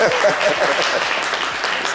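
Studio audience applauding on a French talk show, a steady wash of many hands clapping at close range, with voices talking over it.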